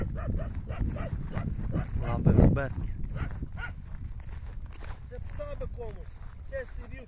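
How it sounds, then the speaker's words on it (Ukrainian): Dogs herding a herd of Belgian draft horses bark repeatedly at close range, short sharp barks scattered throughout, mixed in with people talking. "Ну, такі класні пси, добрі, пасуть коні."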